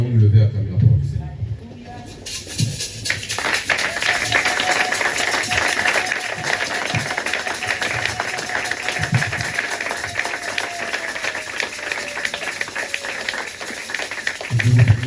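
A church congregation at a Sunday worship service rises and applauds to acclaim the word of the Lord, with sustained dense clapping and crowd noise filling the hall after a brief voice at the start.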